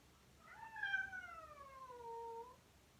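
A house cat meows indoors, one long drawn-out call rising then sliding downward, fairly close and clear against a quiet room.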